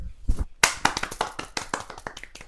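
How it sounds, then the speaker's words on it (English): A small group gives a short round of applause, a handful of crisp, distinct claps close by and fairly quiet, irregular and tapering off within a couple of seconds. "A round of applause."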